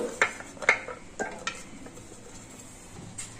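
A spoon stirring beetroot upma in a metal pan, a few sharp close scrapes and clinks in the first half-second bursts, then quieter stirring with a soft sizzle beneath.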